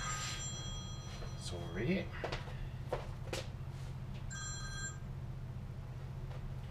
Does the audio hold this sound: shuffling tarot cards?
no